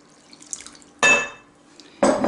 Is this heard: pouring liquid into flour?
yes